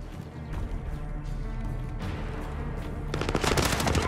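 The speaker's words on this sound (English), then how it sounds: "I'm taking fire." Call of Duty: Modern Warfare gunfire builds from a steady battle rumble into a dense, loud rattle of rapid automatic shots near the end.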